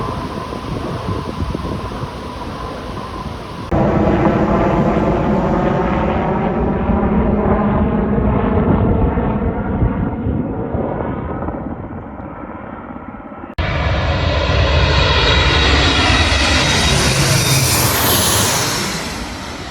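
Water bomber air tankers and attack aircraft fighting fires near Kamloops, British Columbia, roar low overhead, their loud engine drones sweeping past in two separate passes with shifting pitch.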